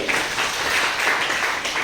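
A school audience at a Bihu workshop breaks into applause, a steady wash of many hands clapping at moderate distance throughout.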